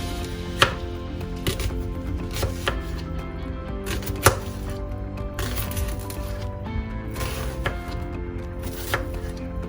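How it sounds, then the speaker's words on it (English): A knife slicing slits down an onion on a cutting board for a ground turkey dinner, a run of close, crisp cuts and taps at an uneven rhythm over steady background music, with no talking. "you're going to make some slits, like so, down the onion"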